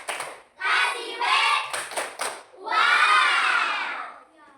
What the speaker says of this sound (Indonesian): Sekarang kita kasih tepuk tangan untuk kelompok 3 dengan semangatnya yang luar biasa.